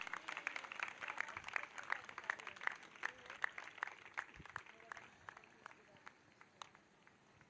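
A church congregation claps in praise during a Sunday worship service, a faint, scattered patter of many hands heard at a distance with no voices over it.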